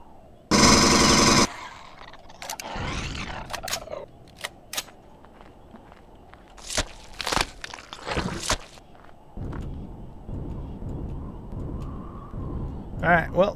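Bursts of gunfire from the game Empyrion Galactic Survival come in short sharp volleys, with footsteps and a loud blast at the start, while a voice talks intermittently.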